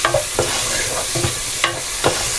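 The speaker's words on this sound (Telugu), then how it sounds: "చక్కగా ఇలా కలిపేసేయండి." A spoon stirring three spoons of masala into chicken fry piece pulao in a hot pan, heard as a loud continuous sizzle with regular scraping strokes close by.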